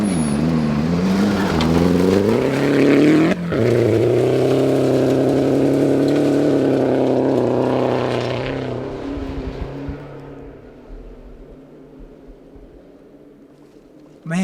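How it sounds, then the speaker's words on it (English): Turbo rally car on a hill climb stage of the 2012 Olympus Rally, engine loud and near as it revs and upshifts with rising and falling tone, then fading steadily into the distance. "He went ahead and upshifted and it just like cranked along."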